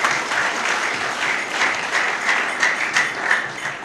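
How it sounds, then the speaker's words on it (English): Applause for the planning committee at an anniversary event, a steady, full round of clapping from a sizeable crowd that holds evenly throughout. "let's give them a round of applause"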